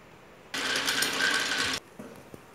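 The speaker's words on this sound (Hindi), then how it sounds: "ऐसे ऊपर से नीचे तक ऐसे सीधी सिलाई लगाएंगे" A sewing machine runs a straight seam down the side of a baby frock, a steady continuous whir lasting just over a second, close and loud, then stopping abruptly into quiet.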